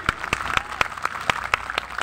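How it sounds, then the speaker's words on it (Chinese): An audience applauding at an outdoor jazz festival in a city square: a brief burst of dense clapping with a few sharp, distinct claps standing out, fairly close and without talk. "掌声鼓励鼓励"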